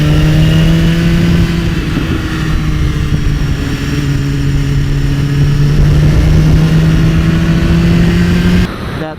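A 2016 Suzuki GSX-R 750 motorcycle engine revs loud and close, its tone rising and sliding through sustained high-pitched sweeps before cutting off near the end, with no voices.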